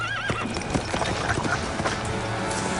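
Horses nearby: hooves clip-clop amid background noise, and a horse whinnies briefly at the start.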